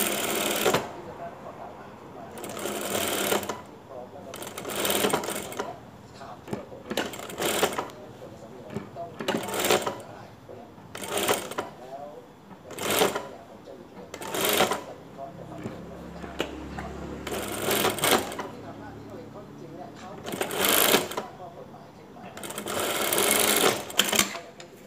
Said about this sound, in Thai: ก็เย็บตะเข็บประมาณตีนผีนิดๆนะคะ